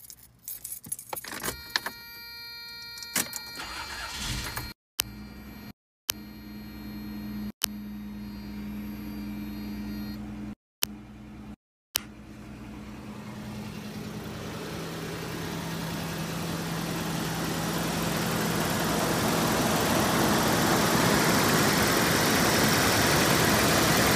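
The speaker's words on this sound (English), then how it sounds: "I'm gonna go ahead and start the car up for you and give you guys a couple of revs and, and hear the engine for yourself." A second-generation Toyota 4Runner with a self-replaced timing belt: keys jingle close by, then the engine cranks and catches, settling into a running idle that grows steadily louder and fuller over the remaining seconds.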